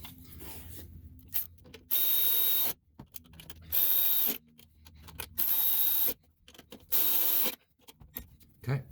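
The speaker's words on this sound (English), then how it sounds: "yes, I'm screwing this back on" A power tool driving bolts back into the throttle body of a 2012 Toyota Camry 3.5L V6 2GR-FE, four short loud whirring bursts separated by quiet pauses with light clatter of handling.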